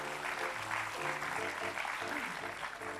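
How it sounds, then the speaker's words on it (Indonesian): A studio audience on a TV talk show claps steadily for a few seconds, dense applause under a talking voice, with music playing faintly beneath. "tepuk tangan dulu buat Ponari"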